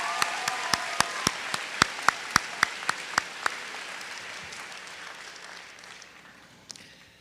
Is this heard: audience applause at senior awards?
yes